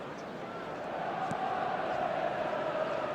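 A Serie A stadium crowd at a Napoli versus Juventus match roars after a goal, a broad, steady wall of distant cheering that swells and holds without letup.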